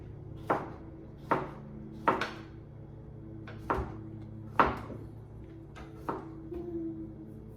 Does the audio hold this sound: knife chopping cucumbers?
yes